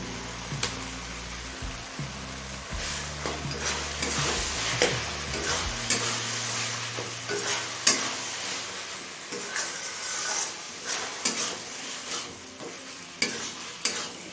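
Chicken mince frying with ginger-garlic paste and spices in a kadai, stirred vigorously with repeated scraping strokes over a continuous sizzle, close up and alone.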